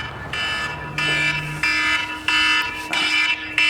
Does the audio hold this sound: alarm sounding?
yes